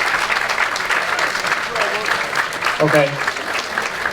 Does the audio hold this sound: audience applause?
yes